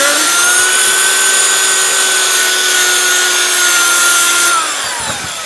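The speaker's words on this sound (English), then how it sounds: "sander." A power sander runs on a Ford Bronco body, making a loud, steady high-pitched whine with a constant tone that dips and winds down near the end.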